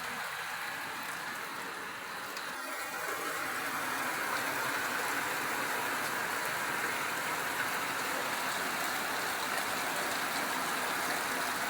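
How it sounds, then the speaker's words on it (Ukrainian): Heavy rain pours down steadily in a garden by roses and a house, a dense, constant broadband hiss of downpour that holds loud and unbroken throughout, with no voices. "Ах, линуло, це линуло."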